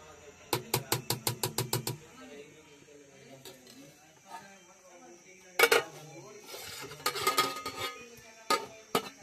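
A metal lid settles onto a cooking pot of simmering aloo chicken curry with a quick series of close, rapid clanks, followed later by a few more bursts of metallic clatter as the pot is closed tightly.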